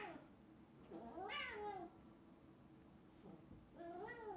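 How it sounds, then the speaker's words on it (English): Pet cats meow faintly in the background, two drawn-out, rising-and-falling meows separated by a quiet pause. "you could just hear my cats in the background."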